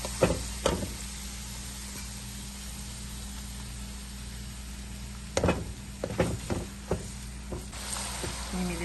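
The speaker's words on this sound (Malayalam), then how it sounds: "ഇനിയും അതിലേക്ക് ഈ ഇഞ്ചി വെളുത്തുള്ളിയും എല്ലാം കൂടി ഇട്ടൊന്ന് നല്ലതുപോലെ വഴറ്റിയെടുക്കാം" Ginger and garlic frying in hot oil for a garlic pickle, a steady soft sizzle running throughout, broken by several sharp knocks and stirring clatters of a utensil in the pan.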